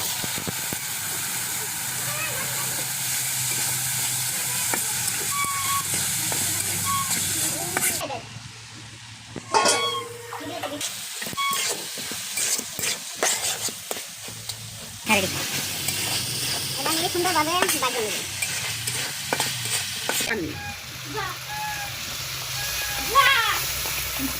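Spices, onion and peanuts frying in a home pan for a dal, potato and egg curry, a steady close sizzle and hiss with stirring scrapes, broken by a brief quiet gap and a few clatters, with someone talking throughout.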